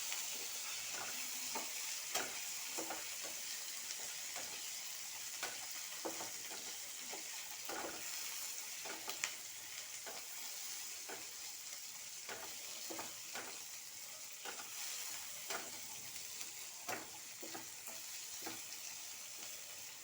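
Ingredients for a fenugreek leaf chutney are stirred and fried in a pan, giving a steady close sizzle broken by repeated scraping strokes of a spatula, with no talking.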